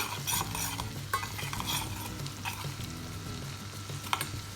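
Butter with dried mint sizzles in a hot pan while a spoon stirs and scrapes through it, a close, steady frying hiss with a few sharp utensil knocks.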